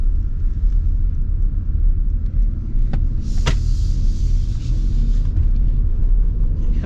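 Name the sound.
2026 Lexus RX 350h hybrid driving and accelerating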